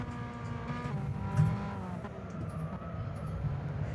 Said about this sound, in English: I can tell this car really wants to just slip out